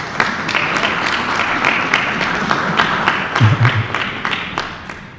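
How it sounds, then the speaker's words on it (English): An audience applauds steadily, dozens of hands clapping together at close range, with a brief low voice partway through. "Give them both a round of applause."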